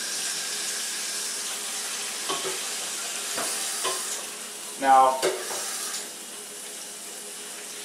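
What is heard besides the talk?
adding water to pot with hot oil and wild game ribs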